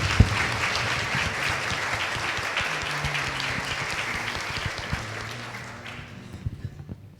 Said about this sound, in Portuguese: Vamos acolhê-los com uma forte salva de palmas.